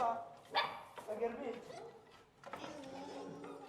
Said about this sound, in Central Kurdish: ئەو سەگانە لێرەن ئەمە بەچکەکانن لێرە